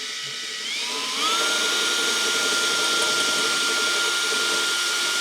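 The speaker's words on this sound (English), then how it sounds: "We're gonna have to drill a much bigger hole through that fresh paint." A step drill bores a hole through the freshly painted metal body of an Austin J40 pedal car, a loud steady high-pitched whine that rises in pitch as the motor spins up and then holds, with no talk.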